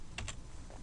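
Two quick keystrokes tap on a computer keyboard while entering a color code in Photoshop, close and crisp, followed by a softer click.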